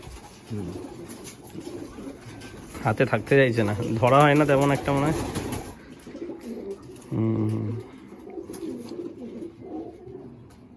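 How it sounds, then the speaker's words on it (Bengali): Domestic pigeons in a pigeon loft, including Andhra and Madrasi breeds, give several soft, rolling coos close by, partly under a man's conversational speech. "এটা একটা ভুরা পায়রা আছে আন্দ্রার নর"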